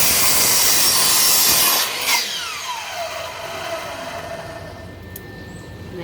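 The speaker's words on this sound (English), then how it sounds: "I'm going to make my cut." A power saw cuts through wood for a DIY deck enclosure, a loud buzzing whine that runs for about two seconds, then spins down with a falling tone and fades into quieter room noise.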